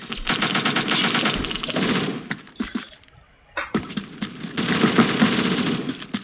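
Rapid rifle fire in the first-person shooter Phantom Forces crackles in dense bursts while aiming down sights, loud and close, breaking off into a brief lull before another sustained volley.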